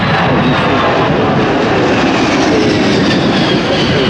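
A big Hercules aircraft powers up and accelerates down the runway at an airshow, a loud, dense, continuous engine roar that stays steady and close throughout.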